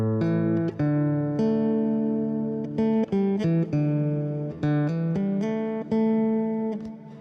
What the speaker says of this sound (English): The guitar's going into Ableton, and then it's got just a little bit of Valhalla reverb on it